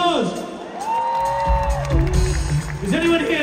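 A concert crowd at a rock show cheers and whoops loudly, with rising shouted voices and a rumbling mass of noise building underneath.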